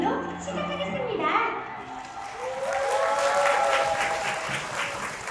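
Audience applause at a hair salon's 2023 half-year awards ceremony workshop, a steady wash of clapping that swells and holds, with music and voices mixed in beneath it.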